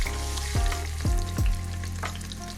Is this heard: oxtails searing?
yes